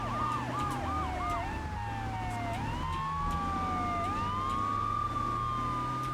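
A wailing ambulance siren in a GTA video game sweeps up and down alongside a constant engine drone, with a second yelping siren pattern at the start, steady and fairly loud with no talking.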